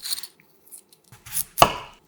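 Peeled potatoes are cut into quarters with a knife, giving a few separate, close chopping strikes; the last is the loudest and sharpest, and there is no speech.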